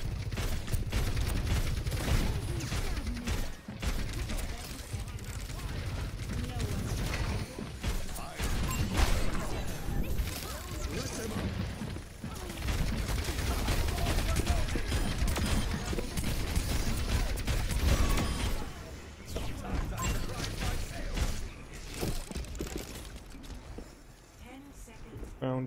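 Torbjorn's turret in the game Overwatch fires in rapid repeated bursts amid other gunfire and mechanical clatter, sustained at moderate loudness with a player talking over much of it.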